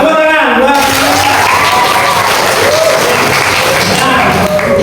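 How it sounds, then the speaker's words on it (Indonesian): Students clap in a classroom during a religious studies lesson, loud, dense applause that carries on for several seconds with voices mixed in. "Ya, tepuk tangan buat"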